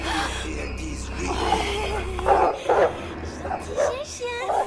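A small dog gives a few sharp, high yips in a French film scene, heard amid ongoing talk and a steady low background hum.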